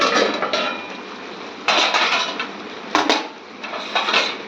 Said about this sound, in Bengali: এবারে ঢাকনাটা খুলে দিচ্ছি